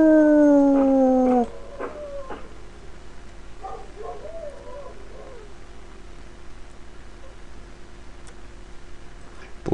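A chained dog howls nearby in a long rising-and-falling wail that breaks off, followed by quieter intermittent whines and ticking over low background hum.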